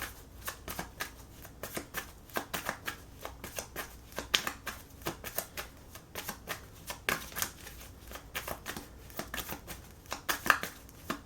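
Tarot cards shuffled and drawn by hand, with a long run of close, crisp riffling and slapping bursts in irregular rhythm and a few sharp card snaps, without speech.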